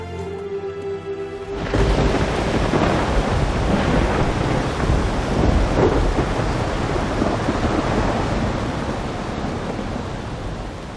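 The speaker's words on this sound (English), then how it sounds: "That was a storm, huh?" A thunderstorm breaks suddenly after a brief tonal hum, with a heavy roar of rain and rumbling thunder filling the air loudly and continuously, easing slightly toward the end.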